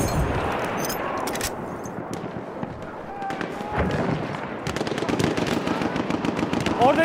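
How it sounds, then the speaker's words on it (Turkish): Machine gun fire from Battlefield 1 gameplay at Fao Fortress, bursts of rapid shots crackling near and far across a battlefield amid other gunfire, with soldiers shouting in Turkish over the din. "Orada bir makinalı tüfek var."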